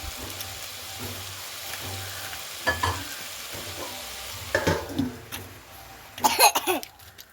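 Potato and beetroot fry in a pan under a low sizzle while a spatula stirs them, with scattered scraping knocks that grow louder toward the end.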